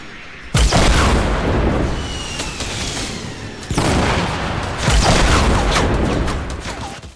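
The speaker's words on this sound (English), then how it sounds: "I'm shooting him fucking 500 times." Heavy gunfire in the game Fortnite, with loud sustained bursts and booming impacts in two long waves separated by a short break, close and dense throughout.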